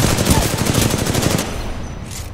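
Rapid automatic gunfire in the video game Titanfall 2, a dense stream of loud shots for about a second and a half that then fades out.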